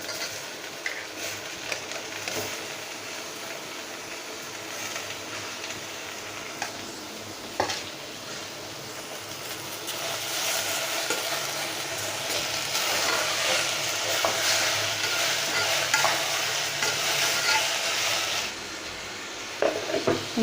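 Chopped tomatoes sizzle steadily in a hot pan for chana biryani while being stirred, a continuous close frying hiss with occasional scraping knocks.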